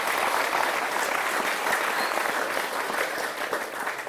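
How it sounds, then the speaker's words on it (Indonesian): Audience applause at a dharma talk held at SMAK Widya Mandala, a dense steady wash of many hands clapping, loud and continuous throughout with no talking over it. "Tepuk tangan"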